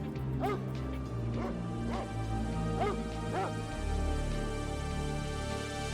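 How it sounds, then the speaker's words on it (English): A cartoon dog barks in an animated Batman Beyond scene, giving about five short, yappy barks spaced across the moment over a continuous bed of background music. "is interrupted when Ace starts barking"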